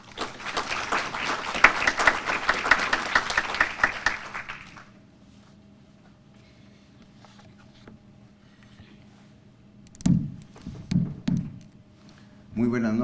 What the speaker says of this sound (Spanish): Recibimos con fuertes palmas al doctor Segundo Baltasar Morales Parragués.